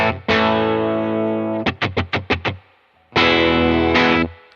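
A Les Paul Junior electric guitar plays through a Universal Audio Dream amp with a clean, Fender-like tone. Long ringing chords surround a quick run of five plucked notes, and the guitar plays alone.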